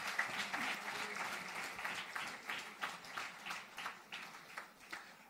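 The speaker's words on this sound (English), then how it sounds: "A big applause for her, ladies and gentlemen" An award ceremony audience claps for a mountaineer honoured with the Padma Shri, the applause fairly distant and moderate, with individual claps pulsing unevenly and fading toward the end.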